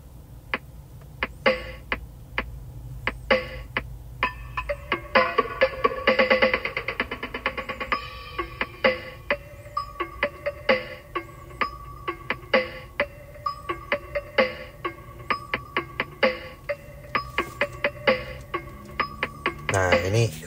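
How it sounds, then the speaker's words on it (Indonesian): Drum sounds played through a car audio mid-range speaker mounted in the center of the dash: a steady stream of sharp, clicky percussive hits with snappy attacks and thin low end, moderately loud in an enclosed cabin, no talking. "Nah, ini suara drum yang keluar dari mid range."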